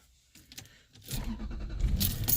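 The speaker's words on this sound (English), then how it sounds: "Turn the car back on." A Lexus GS is switched back on: keys jangle softly, then the engine cranks and catches at about one second, settling into a loud, steady idle close by.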